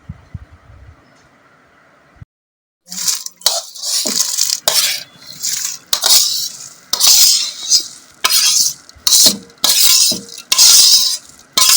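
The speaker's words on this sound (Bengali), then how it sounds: "এটা আমি হচ্ছে পোলাও এখানে চাল ভাজতেছে" Rice frying in a pot for pulao, stirred so it scrapes and rustles against the metal in repeated loud bursts after a quiet opening, with a constant sizzle underneath.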